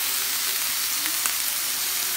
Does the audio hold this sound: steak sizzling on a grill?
yes